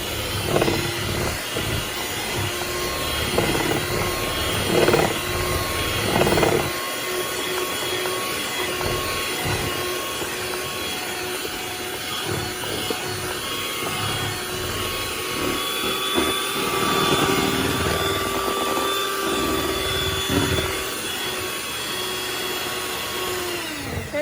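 An electric mixer whirs continuously through red velvet cake batter with rum added, a steady mechanical hum with pitch wavering as the beaters work, close and alone without talk.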